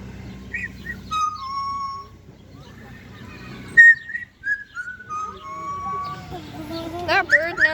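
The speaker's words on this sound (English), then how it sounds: "That bird knows how to whistle." A pet bird named Fernando whistles a made-up tune. The clear notes come in short bursts and slides, some loud, with chirps in between and faint background noise.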